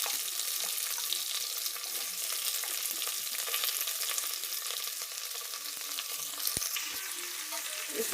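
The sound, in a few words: stirring vegetables (brinjal, potato, carrot) frying in a pan for sambar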